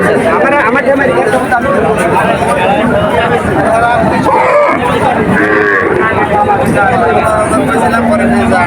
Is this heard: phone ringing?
no